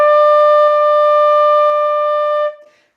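A single steady sustained note, held evenly without any wavering in pitch, rings for about two and a half seconds and then stops.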